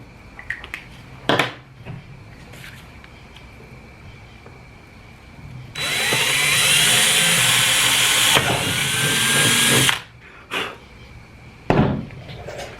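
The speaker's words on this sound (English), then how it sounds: "That's where you need to drill those holes." A power drill whines steadily for about four seconds, drilling holes during an AirDog II fuel system install on a third-generation Dodge Ram Cummins, with a few short knocks and clunks before and after.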